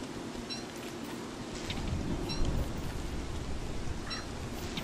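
Steady rain hisses in the game Don't Starve Console Edition, a continuous wash of falling water that swells slightly midway, with no talking.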